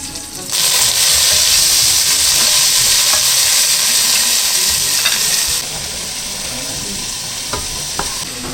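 Onion and tomato hit a hot pan and sizzle loudly and steadily at close range, with stirring scrapes throughout; the hiss drops to a softer level toward the end.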